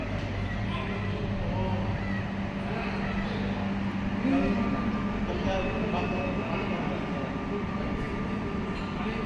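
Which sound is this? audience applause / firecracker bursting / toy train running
toy train running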